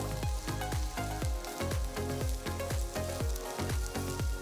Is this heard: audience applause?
no